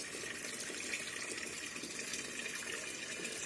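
Water circulating in a white tub-like tank on a terrace garden, holding stones and small fish: a faint, steady trickling wash that stays even throughout, with no voices.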